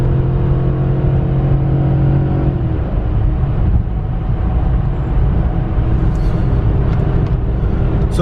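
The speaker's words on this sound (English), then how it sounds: "If I put my foot down, it'll drop down and we can get up to speed pretty easily." A V8 Volkswagen Touareg towing a load, its engine drone rising as it accelerates, with a loud continuous rumble and whirring road noise and no talk.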